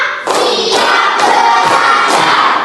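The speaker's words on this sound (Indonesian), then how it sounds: "Tepuk 1, tepuk 2, tepuk 3, tepuk 4, tepuk 5." A primary-school class of sixth graders claps together in a rhythmic counting pattern, loud group claps and children's voices in a classroom, with shouted energy between beats.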